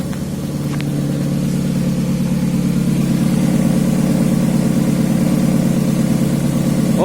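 A car engine idles steadily and loudly on its own, a continuous low hum with no revving, while the vehicle sits after an oil leak repair with spray sealant.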